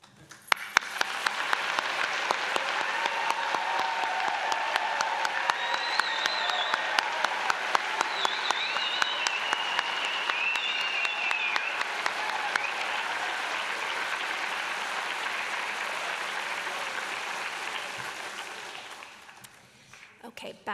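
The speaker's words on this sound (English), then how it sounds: "on a day like today, I don't think we can ever have too much of applause" A large audience at a Mohawk College convocation ceremony gives a long, dense round of applause for about twenty seconds, steady and full, with voices faintly mixed in before it fades out.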